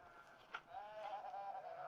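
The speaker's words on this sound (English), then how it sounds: "don't know if you can hear the sheep." A single sheep bleats faintly from a distance, a wavering drawn-out call in an otherwise quiet outdoor setting.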